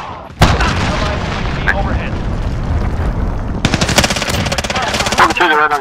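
Rapid automatic gunfire from a Counter-Strike style shooter rattles in close, loud sustained bursts, with a heavier stretch of rapid shots near the end and a voice talking over the shooting.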